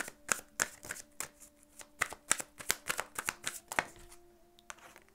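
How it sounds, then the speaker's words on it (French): Oracle cards are shuffled for a reading in a quick run of crisp riffling slaps and flutters, close and fairly faint, with a short pause near the end. "Je vais tirer vos cartes de guérir avec l'aide des fées"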